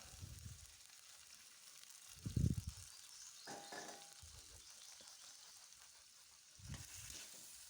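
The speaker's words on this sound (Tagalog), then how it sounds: "Haluin lamang po natin hanggat ito ay mag golden brown." Squid sizzling in a pan while being stirred, a soft frying hiss broken by a few scraping stirs and clinks at irregular moments, close but fairly quiet, with no talking.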